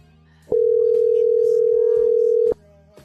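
A steady telephone dial tone sounds loud and unbroken for about two seconds while a prank caller phones a random person, with faint background murmur before and after.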